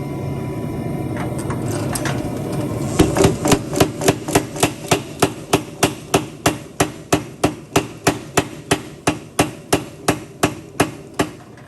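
Steel being flattened for a tomahawk in a workshop: a steady run of about two dozen sharp, ringing hammer blows struck at an even, brisk rhythm, loud and close, following a stretch of duller shop noise.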